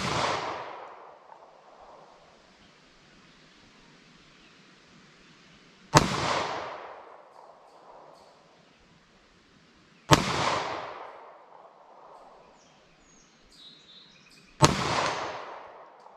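Short-barrel 9mm +P and .38 Special +P handguns fired outdoors, four sharp loud shots spaced several seconds apart, each with a decaying echo tail.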